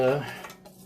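Gumbo stirred in a cast iron Dutch oven: a brief, close clatter of a utensil against the heavy pot, fading quickly into quiet.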